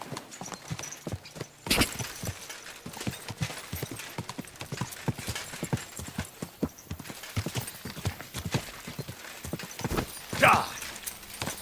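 A horse's hooves clip-clop steadily in a rhythmic, fairly close gait in the video game Kingdom Come: Deliverance II, with a voice talking over it and a brief whinny near the end.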